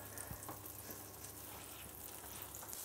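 Butter heating and frying in a pan on the stove for Wallenbergare veal patties, giving a steady, quiet sizzle throughout with faint crackles and no talking.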